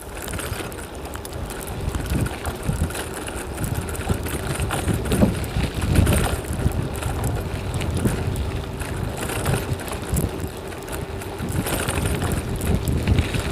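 Strong wind buffets the microphone while cycling against a headwind on a rolling road, a steady low roar with gusty surges throughout, no talking.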